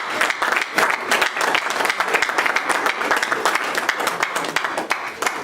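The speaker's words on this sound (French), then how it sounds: "Est-ce qu'on peut acclamer le Seigneur?" A church congregation breaks into loud, steady applause, many hands clapping together in a dense sustained wash with no clear pauses.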